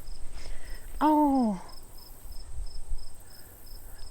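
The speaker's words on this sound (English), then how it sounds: "there's grasshoppers." Grasshoppers in outdoor grass under trees give off a faint, steady series of evenly spaced high chirps, while a person briefly vocalizes nearby.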